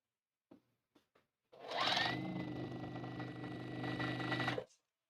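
A sewing machine stitching fabric up close, a few soft clicks and then a sustained whirring hum with rapid needle chatter for about three seconds before it stops abruptly.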